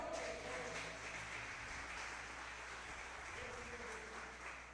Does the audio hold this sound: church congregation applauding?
yes